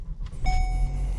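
A 2019 Volkswagen Arteon SEL R-Line is started by push button, giving a short electronic tone and then the engine catching into a low steady idle, close and brief, with no talk.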